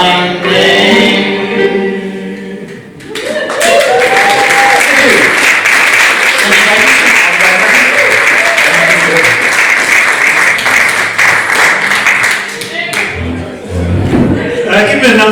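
A crowd gives loud, sustained applause after a sung performance at a live show, a dense wash of clapping lasting several seconds before fading, with singing and voices at either edge.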